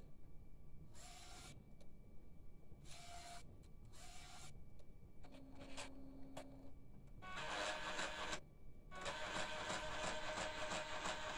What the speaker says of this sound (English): the printer finished what it had to do, and now if everything's okay, it goes to the automatic clean, head clean